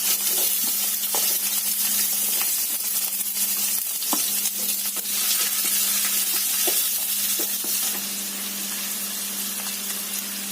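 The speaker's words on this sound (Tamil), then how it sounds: "அடுத்து நறுக்கி வச்ச 3 வெங்காயத்தை வதக்கலாம்" Onions sizzle and crackle steadily in hot oil for a chicken curry, with occasional stirring scrapes and a faint hum underneath.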